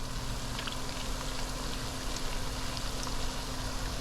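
Plantain chips fry in hot oil with a steady, dense crackle and hiss, a constant bubbling sizzle at moderate volume and no talking over it.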